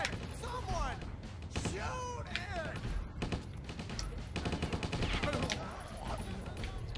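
Soldiers shooting in the video game Stubbs the Zombie, scattered bursts of gunfire and mechanical clatter over several seconds, mixed with voices and game noise.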